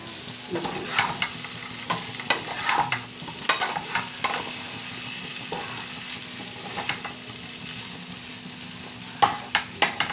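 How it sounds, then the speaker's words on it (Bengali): Potato pieces fry in oil in a pan and are stirred now and then, a constant sizzle with repeated scraping and knocking of the spoon, close up and without talking. "আলুটাকে লাল লাল করে ভেজে নিতে হবে"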